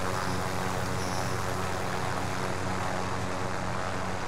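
A helicopter in the Call of Duty: Modern Warfare video game makes a steady, loud rotor and engine drone, constant and unbroken, with no speech over it.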